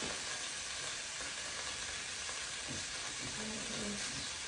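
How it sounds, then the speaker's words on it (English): Hot oil sizzles and crackles steadily in a pan, a continuous close hiss with a few soft pops, no voices. "Because right now it's just sizzling everywhere."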